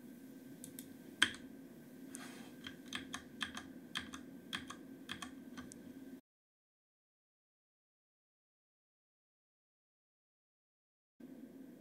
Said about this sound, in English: just click on top with your mouse and press the delete key